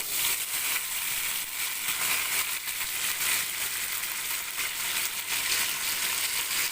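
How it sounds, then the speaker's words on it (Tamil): Mustard seeds, dried red chillies and curry leaves frying in hot oil while tempering for a brinjal kadayal, a dense continuous crackling sizzle close up, loud and unbroken. "இப்போ கடுகு நல்லா பொரிஞ்சிருச்சு இப்போ வந்து வரமிளகா ஒரு அஞ்சு கருவேப்பிலை ஒரு ரெண்டு கொத்து போட்டுக்கலாம்"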